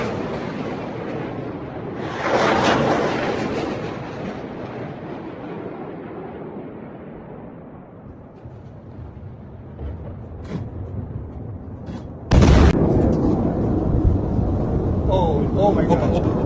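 Missile strikes hit Tel Aviv at night, heard as sudden booming bursts of broad rumble over loud, roaring wind noise, with people talking in the background.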